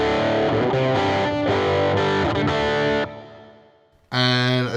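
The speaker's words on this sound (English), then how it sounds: "Now I've got a little electric guitar amp after this." A distorted electric guitar plays loud chords and notes through a Soldano amplifier with reverb, ringing out, briefly fading, then crashing back in.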